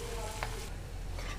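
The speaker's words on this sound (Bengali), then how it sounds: "পেঁয়াজটা ভাজা হচ্ছে" Chopped onions fry in a pan for a North Indian rajma, giving a soft, steady sizzle with a brief utensil scrape partway through.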